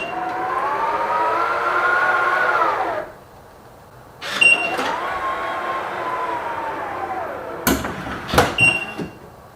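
A version 2 powered frunk liftgate motor on a Tesla Model 3 runs with a steady, smooth whirring hum for about three seconds, pauses, then whirs again before a few sharp latch clunks close it.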